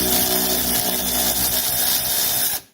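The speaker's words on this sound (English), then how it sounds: "This is a Milwaukee. It's their Fuel 3/8 drive." A Milwaukee Fuel 3/8 drive power ratchet loosening a bolt on a 1984 Mercedes 300SD, a loud, close, continuous motor whir and buzz lasting a few seconds before cutting off abruptly.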